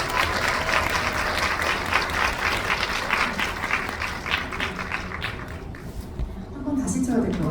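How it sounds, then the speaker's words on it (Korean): Sustained audience applause from a packed cinema at a Korean film screening and guest talk, dense steady clapping filling the room for several seconds, with voices mixed in and a slight lift near the end. "큰 박수 부탁드립니다"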